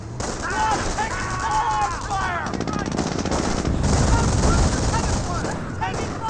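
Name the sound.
MG-42 machine gun firing in Company of Heroes, from a video game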